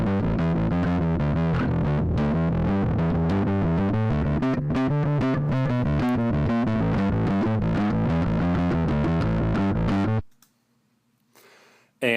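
Distorted bass track with an effects-unit tone, recorded dry without bit crusher processing in GarageBand, plays a steady driving riff for about ten seconds, then cuts to near silence with a brief burst at the end.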